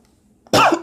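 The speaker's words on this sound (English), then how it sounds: "Pardon my cough." One loud, harsh cough close to the microphone after a short quiet pause.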